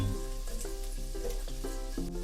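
Steady sizzling of garlic and ginger frying in hot oil in a pan over low heat, with a low continuous hiss and faint repeated tonal hum beneath; no talking.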